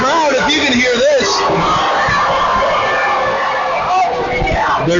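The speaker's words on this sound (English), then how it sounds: "The crowd voicing their disapproval." A basketball crowd at a high-school tournament game rumbles and calls out in disapproval, with a loud, steady roar of many voices under a commentator's talk.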